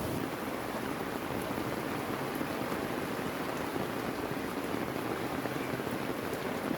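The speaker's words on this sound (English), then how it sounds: "The rain continues to fall" Steady, heavy monsoon rain pours down without pause in the Philippines, a dense even hiss with no voices.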